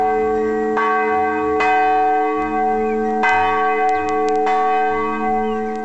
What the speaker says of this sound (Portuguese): é o responsável por ainda bater o sino das 2 igrejas da comunidade